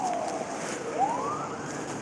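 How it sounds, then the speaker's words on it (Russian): An ambulance siren wails near a republican hospital in Yakutsk during a −40° frost, its tone sliding down and then rising again in a clear sweep, moderately loud with no talk over it. "Вот это скорая помощь,"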